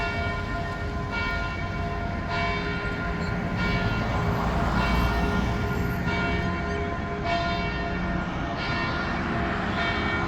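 Church bells ring out across the Kidron Valley beside the Garden of Gethsemane in Jerusalem, with repeated, regularly spaced strikes whose long tones keep ringing and overlap over steady background noise.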